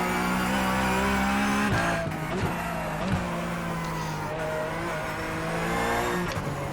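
A Porsche Cup race car at VIR accelerates hard at full throttle, its engine rising in pitch with sharp shift breaks. The loud, close, continuous roar carries faint tire noise, and no one speaks.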